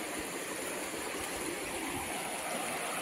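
Steady, dense rushing of a swollen, muddy village river in the Konkan after rain, flowing continuously and fairly near with no pauses and no talk.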